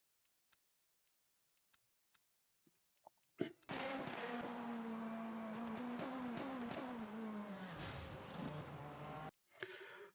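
Lamborghini race car engine on track, chasing a Porsche in a racing series, a steady loud engine drone with shifting pitch that starts abruptly after near silence and runs for several seconds before cutting off.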